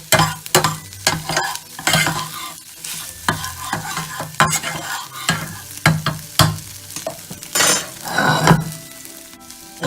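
Scrambled eggs are stirred in a hot pan, with a steady sizzle beneath repeated scraping and clinking as the utensil moves through the eggs in an uneven rhythm, close and fairly loud.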